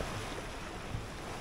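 Ocean waves surge against the rocky shore at Karang Bolong beach in Ujung Genteng, a steady rushing wash of surf with a slight swell in the middle, heard alone without talk.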